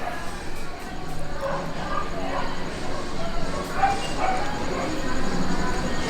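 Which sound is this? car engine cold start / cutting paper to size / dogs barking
dogs barking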